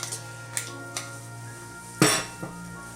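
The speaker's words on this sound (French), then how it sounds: "Je mets le bol en place" A bowl is set into a Klarstein Bella Rossa TK2 1200W food processor: light clinks and taps, then one sharper clunk as it seats, with a softer knock just after over a steady low hum.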